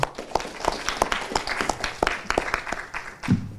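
An audience at a Peekskill Youth Bureau grant event claps for Danielle Sato, a moderate crowd applause with distinct sharp claps standing out near the microphone, steady throughout.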